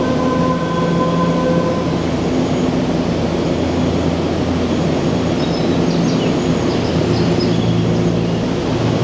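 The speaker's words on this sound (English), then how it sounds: "you can see our train is just entering the station now" An Odakyu Romancecar train enters a station with a loud, steady rail roar and rumble. Faint squeals and tones rise above it, and no one speaks.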